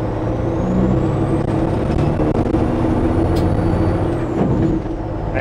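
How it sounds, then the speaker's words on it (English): A semi-truck's engine brake runs between gear shifts as a loud, steady, throaty rumble. It holds close and constant for several seconds, then dips briefly near the end, with no voices. "here we're gonna do it same pattern, but Jake in between each of the"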